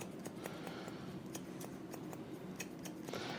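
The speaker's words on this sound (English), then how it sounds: "You want to try and move the scissors as quick as possible so you don't create any lines or gaps." Scissors snip through hair in quick, light, close cuts, several sharp clicks spaced irregularly over a steady background hiss, with no talking.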